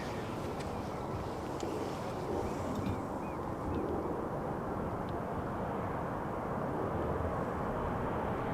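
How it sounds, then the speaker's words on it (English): An Air Canada Boeing Dreamliner arriving on runway 18R at Amsterdam Schiphol, a steady broadband jet roar that holds loud and even throughout, with wind buffeting the microphone. "let's focus on this beautiful Dreamliner from Air Canada"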